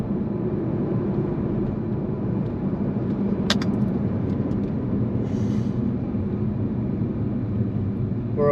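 Steady low engine drone from a Jaguar XJ (X351) revving in manual mode with a gruff, diesel-like tone, heard from inside the cabin as a constant, moderately loud hum.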